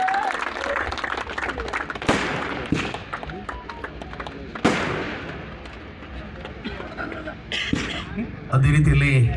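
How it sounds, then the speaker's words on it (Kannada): Audience applause at a men's tug-of-war event, a broad burst of clapping and crowd noise with sharp bangs rising under an announcer speaking over a loudspeaker. "ಒಂದು ದೊಡ್ಡ ಚಪ್ಪಾಳೆ ಬರಲಿ"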